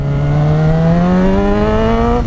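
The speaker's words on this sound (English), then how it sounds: "Oh yeah, so shifting gears on you." A Yamaha FZ6R motorcycle engine revs hard and close, its pitch climbing smoothly and steadily as it accelerates through the gears, loud and continuous with no voices.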